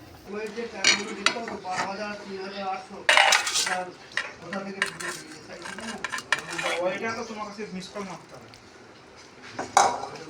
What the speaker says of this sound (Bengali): আমি একটু গ্লাসে করে বেশ খোঁচা খোঁচা তরকারিটাকে মোলাম করে দেবো